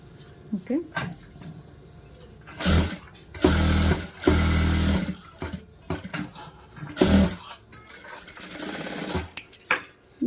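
A sewing machine stitches a plain blouse during a tailoring lesson in several short, loud bursts of rapid needle clatter separated by pauses, with a person talking in between.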